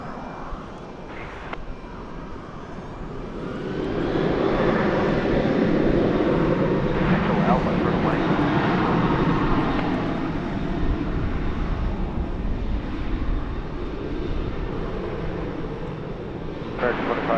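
Jet airliner taking off from runway 18 left at DFW Airport, a broad engine roar that swells after a few seconds, peaks, then slowly fades, heard with tower radio chatter.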